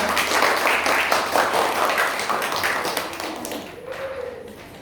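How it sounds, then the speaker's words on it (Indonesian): A class group in a physical education teaching practice session claps for another group. The dense applause is close at first, then thins and fades over a few seconds, with a voice briefly near the end. "beri tepuk tangan dulu untuk kelompok 3"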